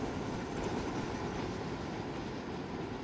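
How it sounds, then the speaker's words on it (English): A train rolls past in the video game Tom Clancy's Ghost Recon Wildlands, a steady low rumbling roar with faint rattling, sustained and even for the whole stretch with no talk over it. "Wait for the train to pass."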